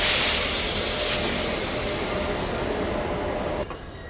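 A passing train roars loud and close at a railway crossing, wheels rumbling with a faint squeal, then the noise gradually fades before a sharp clunk near the end.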